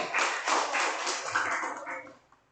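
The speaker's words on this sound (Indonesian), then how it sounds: "tepuk tangan buat Edson" Children in a classroom applaud a classmate. The clapping is a dense, continuous patter of many hands at modest loudness, tapering off toward the end.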